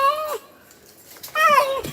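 A cat stuck up in a rambutan tree meows twice loudly and close by, with a quiet pause between the two plaintive cries.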